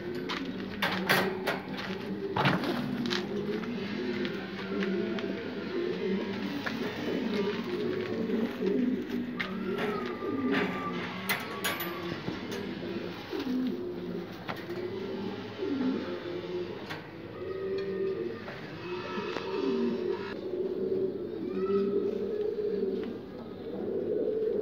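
A flock of pure-bred Egyptian pigeons coos continuously and close by, soft overlapping calls repeating throughout with occasional clicks and fluttering.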